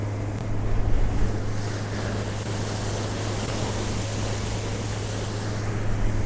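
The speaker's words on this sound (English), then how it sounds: "the boat will be planing comfortably" A motorboat planes at speed across open water, its engine a steady low hum under rushing water, hull slap and wind buffeting the microphone, continuous and fairly loud throughout.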